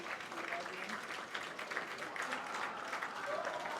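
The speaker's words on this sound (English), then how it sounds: "Getting a round of applause." Crowd lining a Fourth of July parade route in Muscatine, Iowa applauds veterans, steady scattered clapping from a distance mixed with crowd noise and some talk.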